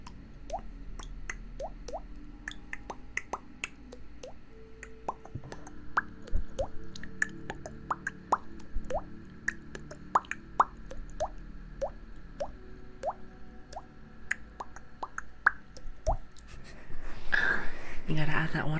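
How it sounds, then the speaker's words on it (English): Soft watery plops and drips are layered into a playful ASMR beat, a steady run of crisp, close mouth-like clicks and drops over faint background hum, with a louder wet rustle near the end. "You gotta add that water noise too."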